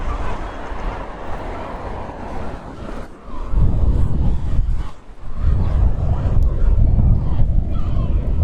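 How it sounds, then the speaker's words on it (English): Strong Tramontana wind gusting along the Costa Brava coast at Port de la Selva, a loud continuous roar of buffeting against the microphone that surges heavier partway through, with no speech. "We have the Tramontana, we have wind here"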